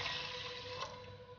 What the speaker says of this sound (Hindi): और ये पानी इसमें ऐड कर देंगे।